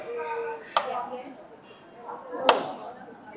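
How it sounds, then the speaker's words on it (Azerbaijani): A knife chops potatoes into long strips during a cooking lesson, giving two sharp, distinct cutting knocks about two seconds apart while people talk quietly nearby. "Kartofu uzun şəkildə doğramağın qaydası deməli"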